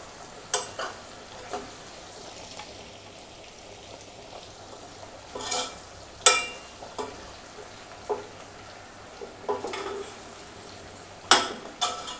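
Ground spices being stirred into amla gooseberry pickle, soft scraping and mixing with intermittent clinks of a spoon against the vessel, fairly close and no talking.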